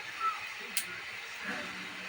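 Whole spices dry-roasting in a pan give a faint, steady hiss with one small sharp crackle partway through, close by and without speech.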